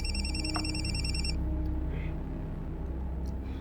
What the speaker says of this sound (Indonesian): Aku harus telepon Lulu.